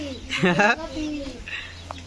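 A pigeon coos nearby, a low throaty call rising over a steady hum, followed by a softer, fainter coo.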